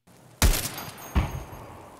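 Two AGL grenade explosions in Escape From Tarkov at roughly 25 to 30 yards, each a sudden sharp boom with a rumbling tail, the second slightly softer and followed by a faint crackle.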